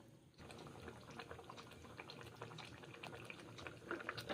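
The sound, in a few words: moong dal and ridge gourd curry boiling in water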